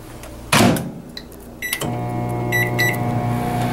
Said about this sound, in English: That's what heats up anything you put in the microwave.